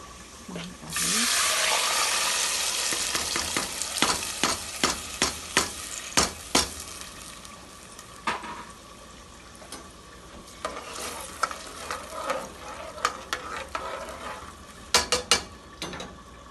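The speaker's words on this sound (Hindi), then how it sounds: "अब इसमें मैं दाल ऐड करूँगी।" Lentils tipped into a pot of frying onions with cumin for khichdi, giving a loud sizzle followed by repeated scraping and clinking of a spoon as the mixture is stirred, close up with no talking.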